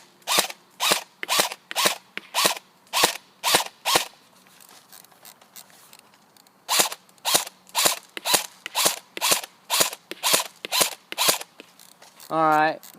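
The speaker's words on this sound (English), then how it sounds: "here's the shooting test with the supposed 330 feet per second with 20 grain BBs" An airsoft M4 assault rifle fires 20 grain BBs at about 330 feet per second in a steady run of sharp, evenly spaced snapping shots, roughly two per second, with a short pause midway and someone speaking briefly at the end.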